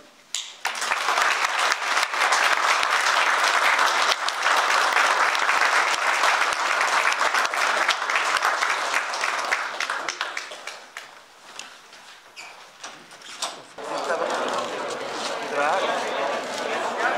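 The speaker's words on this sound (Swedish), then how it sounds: "tillsammans med er vi tar upp en sån varm applåd för att visa verkligen vår uppskattning" Warm applause from the audience at a ceremony where a medal is presented by the Swedish King and Queen, loud and sustained for about ten seconds, then fading to scattered clapping before a softer swell returns.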